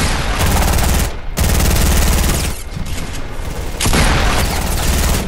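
Dense bursts of automatic gunfire in a Fortnite three-way build fight, loud and close, in three long sustained volleys with brief gaps between them.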